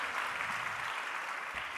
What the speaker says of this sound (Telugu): వాళ్ళ కొరకు ఒకసారి చప్పట్లు కొట్టాలి కదా